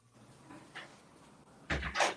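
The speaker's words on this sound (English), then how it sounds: "So let me close the door." A door in a room is pushed shut, giving a couple of soft handling knocks and then a louder thud and rattle near the end, heard close with no talking.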